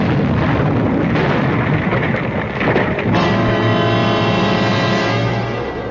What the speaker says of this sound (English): suddenly there was a flash of light and a loud explosion